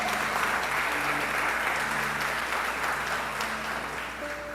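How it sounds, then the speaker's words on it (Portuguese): A church congregation applauds during an evening service, loud dense clapping filling the room throughout with a faint sustained tone and murmur underneath, tapering slightly near the end. "Você pode aplaudir a Ele nessa noite"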